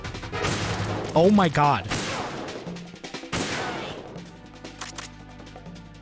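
Gunfire rings out in Metal Gear Solid 2, a few loud, sharp bursts close together near the start and another blast later, followed by fainter noise, with a man exclaiming over it.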